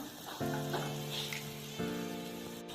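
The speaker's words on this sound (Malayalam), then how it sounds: "ഇതിൻ്റെ പച്ചമണം ഒന്ന് മാറുന്നത് വരെ നമുക്കൊന്ന് ഇത് വഴറ്റി കൊടുക്കാം" Drumstick flowers with turmeric sautéing in a pan give a steady soft sizzle, with two louder bursts of frying as the mix is stirred, close and alone without talk.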